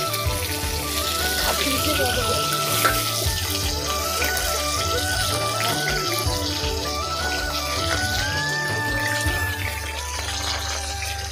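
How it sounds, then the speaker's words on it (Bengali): Lentil vadi (bori) frying in hot oil in a pan, a steady close sizzle running throughout with faint clinks and background sounds, including a thin whistling tone. "এখন আমি ঝোলের জন্য এবং বেগুন মাখার জন্য বড়িগুলো আমি ভেজে নিচ্ছি।"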